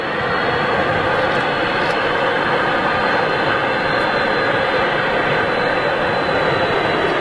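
An airliner's jet engines spool up at Manchester Airport, producing a loud, steady, broadband roar that holds without a break, with no voices over it.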